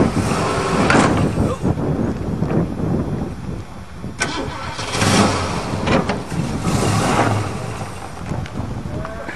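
A 1935 Mercedes engine running while driving on a farm, loud and close, rising and falling with throttle changes through the whole stretch, with occasional voices in the background.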